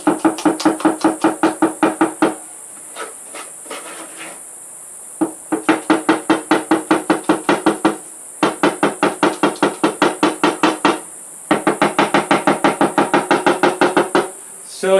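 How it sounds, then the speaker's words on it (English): A mold of wet cement for a DIY paper towel holder is knocked to settle the mix, loud rapid rattling taps in long bursts separated by brief pauses. "knocking so that the cement goes down"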